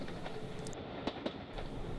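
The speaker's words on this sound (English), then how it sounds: "After passing under numerous bridges, the train approaches Loughborough Station." Heritage train on the Great Central Railway approaching Loughborough: a faint, steady rolling rumble with a couple of soft rail clicks, heard alone without voices.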